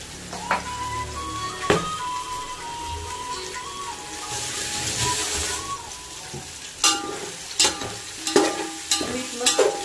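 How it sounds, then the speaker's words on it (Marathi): Soybeans and salt are stirred in a hot pan, giving a continuous sizzle and scraping. Sharp clinks of a spoon against the pan repeat, growing more frequent toward the end. "मीठ मस्त मिक्स करून घ्यायचं."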